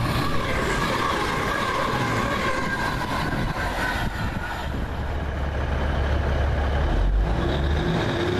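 A TransPennine Express train passes southbound with a continuous, loud rumbling roar and wheel noise, a deep low drone building toward the end.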